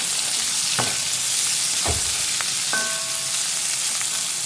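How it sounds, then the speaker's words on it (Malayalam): Sliced onion sautés in a pan with a constant close hiss of frying, punctuated by a few sharp scrapes and clinks of a utensil against the pan. "ആ ഒരു സവാളയാണ് ഇതിലേക്ക് ചേർത്ത് കൊടുക്കുന്നത് ഇതിനെ ഒന്ന് വാട്ടിയെടുക്കാം"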